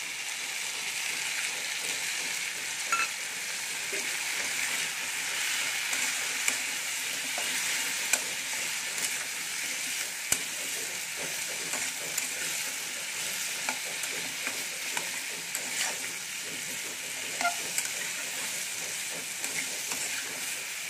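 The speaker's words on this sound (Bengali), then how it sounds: "গ্যাসের ফ্লেমটা লো টু মিডিয়ামে রেখে আলুটাকে একটু ভাজা ভাজা করে নেব" Steady, continuous sizzling of potatoes frying in a pan over low to medium gas flame, with occasional stirring scrapes, no voices.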